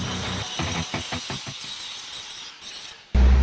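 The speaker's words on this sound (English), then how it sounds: "I peel some slag" Slag being peeled and chipped off a fill weld on an open wheel spoke, a quick run of brittle cracking and clinking ticks that fades out, then a sudden loud burst at the end.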